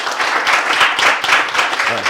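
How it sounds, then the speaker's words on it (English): A game show audience claps for Lolo, a contestant in a couples competition, with brisk, even applause lasting about two seconds before a voice starts at the end. "A round of applause for Lolo, please."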